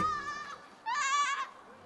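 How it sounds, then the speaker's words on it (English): Goats being run into the ring at the PNE fair in Langley give two loud, close bleats, a shorter nasal cry followed by a longer wavering one, with a quiet gap between. "here we go, running in the goats"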